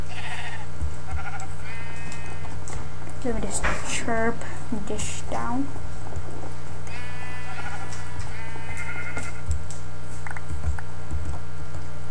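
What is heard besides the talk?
sheep bleating in Minecraft video game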